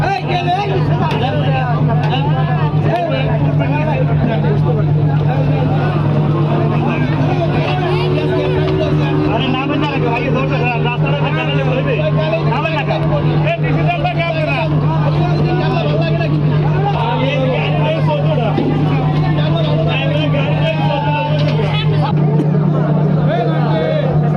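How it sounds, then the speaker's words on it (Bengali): A passenger launch backs away from the jetty on the Barisal–Bhola river route, its low engine drone steady and loud throughout under a busy hubbub of boarding passengers and crowd chatter. "এখন লঞ্চটি আবার ব্যাক গিয়ারে চলে যাচ্ছে"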